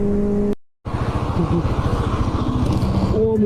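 Motorized scooter speeding past a road block in traffic, a loud steady engine drone with rising revving, briefly cut to silence before resuming close and continuous.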